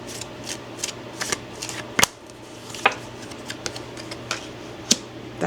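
Tarot cards are shuffled up close in a quick series of sharp, papery riffles and taps, with no talking.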